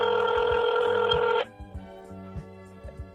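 A telephone ring tone sounds on a call to an old Snoopy phone number. It rings loud and continuous for over a second, then cuts off to near silence with faint low thumps.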